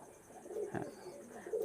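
Pigeons, including red-eyed breeding pairs kept for sale, give a few soft low coos close by over quiet background noise, with a faint knock in the middle.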